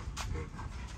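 Tri-colored puppies pant close by in short breathy bursts over about a second, quiet and unaccompanied by talk.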